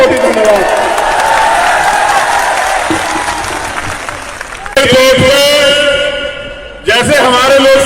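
A rally crowd at the BHEL Dussehra ground claps in a dense, steady burst for about five seconds; a loud amplified voice then cuts in over the fading applause.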